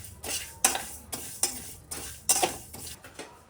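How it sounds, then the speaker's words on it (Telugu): Black cumin and cinnamon spices lightly frying in a pan, with a soft sizzle under quick, close scraping and clinking strokes of a spoon against the metal, about four or five strokes in a few seconds. "ఇవి కూడా లైట్గా ఫ్రై అయిపోయాయండి."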